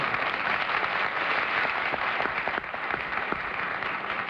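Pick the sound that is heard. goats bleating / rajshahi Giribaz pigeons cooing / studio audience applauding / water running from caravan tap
studio audience applauding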